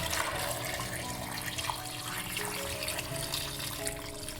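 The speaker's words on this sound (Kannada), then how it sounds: "ಆಲೂಗಡ್ಡೆ ಮುಳುಗುವಷ್ಟು ನೀರನ್ನು ಹಾಕೋಬೇಕು" Water pours steadily into a pressure cooker over potatoes, a continuous close-up rushing and splashing that stays fairly even for several seconds, with no voices.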